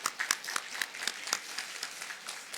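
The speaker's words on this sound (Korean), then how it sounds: "우리 박수로 환영하겠습니다." Congregation applause in a church Sunday service welcoming a newly registered member, a modest patter of hand claps with distinct individual claps, fairly quiet and a little distant, without talk.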